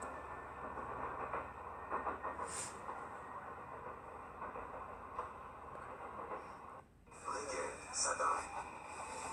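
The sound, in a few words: Paris metro train running in Paris Métro Simulator video game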